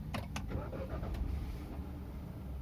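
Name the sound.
car engine starting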